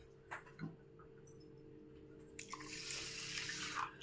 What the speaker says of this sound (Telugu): వాటర్ వేసుకొని నానబెట్టుకుందామండి